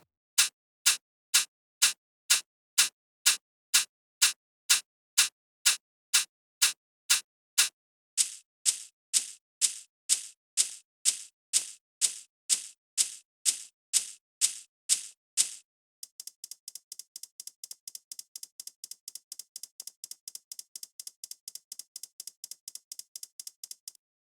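Crisp, evenly spaced shaker ticks in a steady house beat, changing texture in stages as more shaker layers are added, ending in a dense, shimmering hi-hat-like pattern, with no voices.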